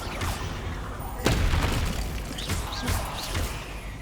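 Expelliarmus spell cast in Hogwarts Legacy, a sharp booming crack followed by shimmering magical whooshes and short repeated bursts, loud and close amid busy game effects.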